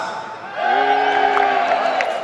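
A crowd at a campus party opening ceremony cheers for house music, with sustained shouts and whoops rising together after a quieter start.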